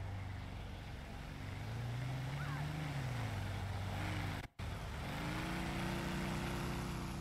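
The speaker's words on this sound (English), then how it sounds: "A lot of motorcycles around here tonight making a noise." Motorcycle engines in a GTA V roleplay game scene at night, a continuous low droning rumble with rising and falling pitch as the bikes rev and pass, briefly cut by a short gap.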